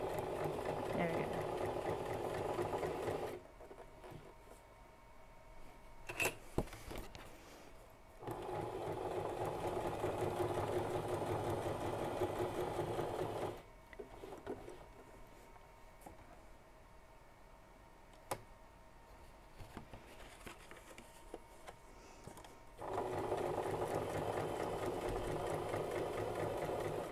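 Sewing machine running in steady bursts while stitching wonky lines into an altered craft notebook, its close, even whirr starting and stopping several times with quiet pauses between runs.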